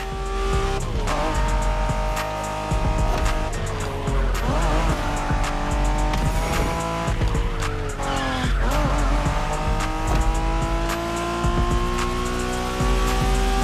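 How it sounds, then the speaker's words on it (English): Race cars in The Crew Motorfest during a Japanese street race, with engines roaring and shifting pitch continuously and tires squealing through corners, loud and steady over game music throughout. "We're going for some proper Japanese street racing."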